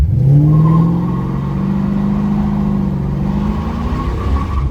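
A tuned car engine revs hard with the pedal floored and spins its tires in a loud, sustained rising roar and whine close by, with no talking.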